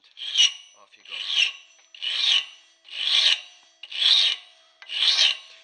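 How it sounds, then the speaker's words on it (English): A rough cutting file rounds off the end of a mild steel bar clamped near the jaws of a vise, six rhythmic, raspy strokes about a second apart, close and crisp with quiet gaps between them. "Just take a rough file and off you go."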